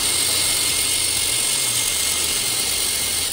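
A robot's intake mechanism with a ratchet and four pawls runs as a loud, steady mechanical whir and hum throughout, with no talk.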